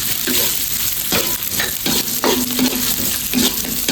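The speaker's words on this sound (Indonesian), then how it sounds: "kita akan menumis bawang bombay dan bawang putih" Onion and garlic sauté loudly in leftover oil for sapo tahu with squid, a dense close sizzle broken by repeated scraping strokes of a spatula across the pan, with no one speaking.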